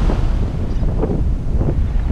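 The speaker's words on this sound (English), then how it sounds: "the wind is too much for them" Strong wind gusting across the microphone at a beach in Pensacola, Florida, a loud, close, continuous low rumble with buffeting surges and no voices.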